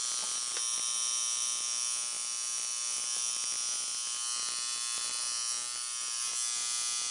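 Steady, high-pitched electric buzzing of a tattoo machine running continuously, close and even, with a slight wavering hum, slightly rough-running, and no talking.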